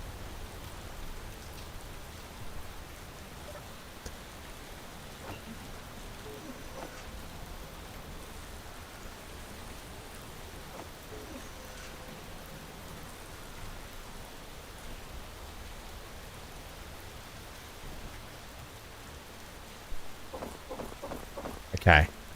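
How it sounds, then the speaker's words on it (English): Heavy rain hisses steadily and evenly in the video game Space Engineers, a constant wash of downpour, with a few sharper knocks at the very end. "maybe I'll go into the files and just turn the rain down a little bit because it rains too heavy and you can't see."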